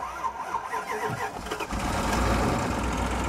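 Old Dodge Durango SUV engine cranking and catching after a jump-start from a jumper battery, then settling into a steady, rough idle, close and loud with a low rumble.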